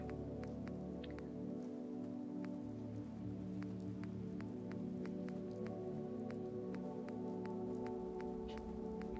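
Rain falls steadily in the video game Fallout 4, a soft constant patter with scattered distinct drips, heard faintly beneath a sustained low ambient hum.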